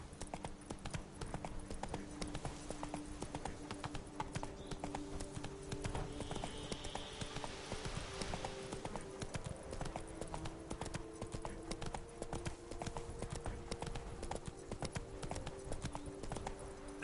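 Roach, a horse in the video game Witcher 3, gallops with a steady, rapid clip-clop of hooves running throughout, fairly faint and alone without talk.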